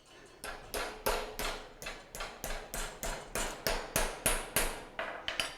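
A hammer beats metal stock while a blacksmith forges a tenon, a steady run of about fifteen sharp ringing blows at an even rhythm, loud and close with no talking.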